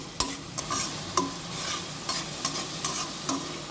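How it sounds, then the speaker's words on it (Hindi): Spices fry in a pan while a spoon stirs them, giving a steady sizzle broken by about eight sharp scraping strokes, close and fairly loud, with no voices. "अब इसको भी इसी तरह से 10 से 15 सेकंड तक फ्राई करेंगे ताकि मसाले अच्छी तरह भुन जाए।"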